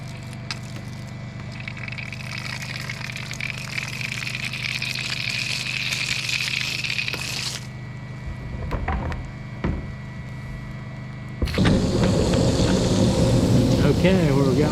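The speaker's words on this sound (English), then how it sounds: "it's at least pumping" An off-grid water pump running and pushing water, a steady mechanical whir and gushing flow that continues throughout and gets louder and rougher near the end, with brief voices in the middle.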